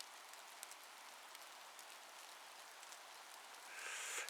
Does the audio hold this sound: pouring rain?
yes